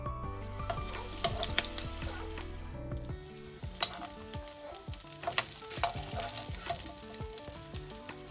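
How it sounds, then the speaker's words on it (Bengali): Hilsa fish roe frying in hot oil as the eggs are turned from side to side, giving a steady close sizzle with stirring clatter throughout. "এই ডিমগুলোকে আমি এপিট ওপিট করে একটু ভেজে নিচ্ছি।"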